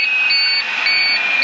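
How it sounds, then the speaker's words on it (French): Cockpit warning alarm in a Dynali helicopter during a magneto check, sounding as a steady high tone with repeated short beep pulses, loud and continuous over the running engine. "Et là vous avez entendu bien que l'alarme fonctionne correctement."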